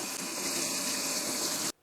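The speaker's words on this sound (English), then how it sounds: "So she just rinses it under the water" A soup mix of lentils, green and yellow split peas and barley is rinsed under running tap water, giving a steady, loud gushing stream that cuts off abruptly at the end.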